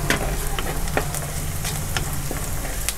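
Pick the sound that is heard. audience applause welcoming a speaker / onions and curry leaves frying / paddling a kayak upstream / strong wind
onions and curry leaves frying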